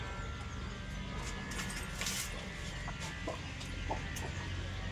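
Native country chickens and brooding hens on a small chicken farm give faint, scattered clucks beneath a steady wash of outdoor background noise.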